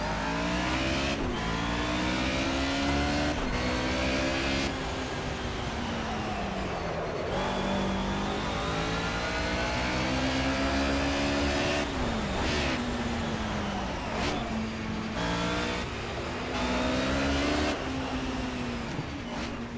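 A race car engine in the Project CARS racing game screams continuously, rising through the gears with repeated shift drops and revving climbs, loud and close throughout with no voices.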